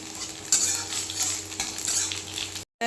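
Crushed garlic and black cumin fry in hot oil as a utensil stirs the pan, a close, steady sizzle with scraping stirs that cuts off abruptly near the end.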